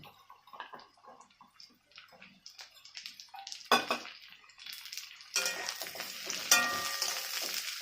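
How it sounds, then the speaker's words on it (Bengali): Pointed gourd pieces fry with onions in a pan for a chorchori with hilsa fish head, amaranth stalks and jackfruit seeds. Soft stirring and utensil clinks come first, then a louder sizzle swells over the final seconds. "পটলগুলো দিয়ে ভালো করে আবার ভেজে নেবো"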